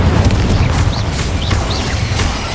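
A fire spell in Hogwarts Legacy bursts with a loud, sustained booming roar, a dense rumbling blast that fills the whole moment alongside a few faint whistling tones.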